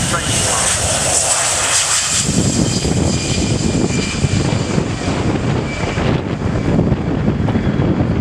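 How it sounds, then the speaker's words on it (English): A Boeing KC-135R Stratotanker jet takes off from Fairford at an air show, a loud sustained engine roar with heavy wind buffeting and a shifting whine as it climbs away. "The Boeing KC-135R Stratotanker from the 54th Air Refueling Squadron"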